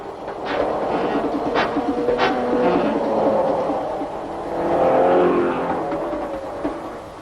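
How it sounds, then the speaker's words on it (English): Race car slowing to enter the pits at Sandown during a six-hour race, its engine note rising and falling amid the rumble of other passing cars. "John Fitzpatrick slows to bring his car into the pits"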